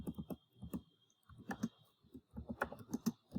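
Bursts of fast typing on a computer keyboard, close and fairly quiet, with quick clustered key clicks separated by short pauses and no talking.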